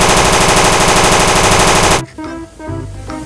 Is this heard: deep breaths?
no